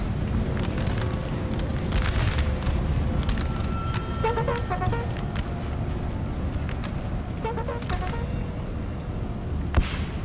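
Infantry troops fire their guns in a winter battle in Napoleon: Total War, scattered crackling shots and muffled booms rolling over a constant low rumble for several seconds.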